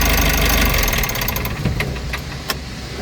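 A Mitsubishi L300 Euro 4 diesel engine with an EGR fault runs close by, a loud gravelly roar that drops to a knocking idle with a few sharp clicks.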